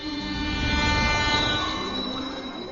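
A train pulling into a station, with steady loud rumble of rail wagons and long high wheel squeals over the tracks, continuous and close for the whole stretch.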